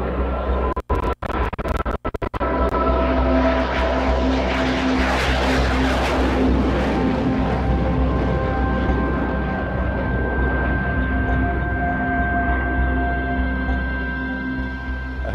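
A MiG-29 OVT fighter jet with thrust vectoring flies a display at an air show. Its loud, sustained engine roar swells and holds for the whole stretch, with a few sharp clicks early on.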